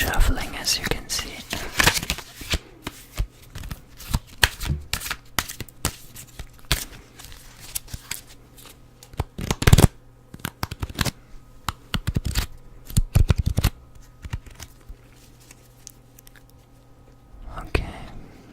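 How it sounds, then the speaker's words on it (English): Osho Zen tarot cards shuffled by hand close to the microphone, giving bursts of crisp riffling and sliding card snaps with uneven pauses, mixed with soft whispering throughout. "First we have to shuffle them a little bit."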